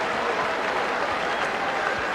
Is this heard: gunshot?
no